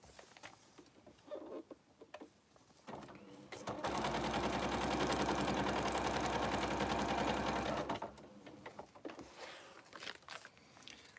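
A sewing machine runs a steady, fast burst of stitching through quilt fabric for about four seconds, loud and close, framed by quieter handling rustles and clicks before and after.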